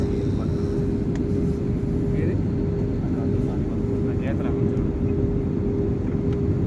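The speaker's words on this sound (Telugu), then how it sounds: "ఫ్లైట్ అయితే దిగుతున్నాం ఢిల్లీలో" Steady droning roar inside an airliner cabin as it descends to land at Delhi airport, continuous and even throughout, with a steady engine hum and faint cabin clicks, no voices.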